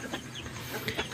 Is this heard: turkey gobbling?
yes